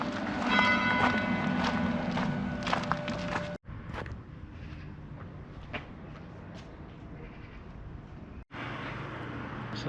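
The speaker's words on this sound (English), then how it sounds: "Church bells ringing." Church bells ringing for eleven o'clock in a French village street, a steady tolling with bright overtones that fades back into quieter outdoor ambience with footsteps.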